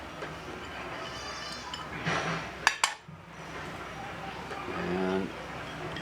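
Utensil clinking and scraping against a bowl as ingredients are stirred together, a few sharp clinks in the middle among softer clatter, fairly close and moderately quiet.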